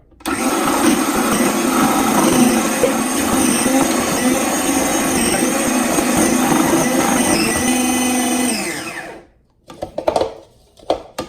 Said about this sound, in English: processor right here that we bought back in the 70s. Thing still works fantastic.